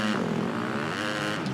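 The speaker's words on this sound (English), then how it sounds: "So here's Nando revving up on the inside." Supercross motorcycle in Monster Energy Supercross 2 revving on the inside of the start line by a Toyota sign, a steady, loud, buzzing engine drone held throughout with slight pitch swells.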